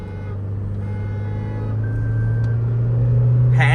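A Toyota Fortuner accelerates at full throttle on a narrow road, its engine a loud, steady drone heard from inside the cabin that swells and climbs gradually in pitch.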